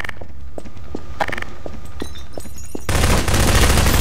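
Gunfire in the video game Prop Hunt: a few sparse sharp reports and footsteps at first, then a loud dense burst of sustained shooting from several guns near the end.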